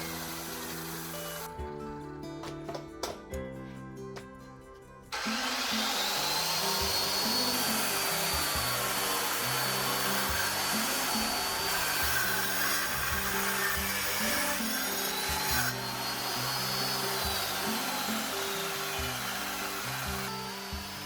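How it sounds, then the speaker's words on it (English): A hozokiri tenon-cutting machine runs loud and steady, cutting wood for traditional Japanese joinery, with a harmonic motor whine. A quieter stretch at the start gives way to a sustained full-power roar. "Using this machine, called a hozokiri, we can cut both vertically and horizontally at the same time."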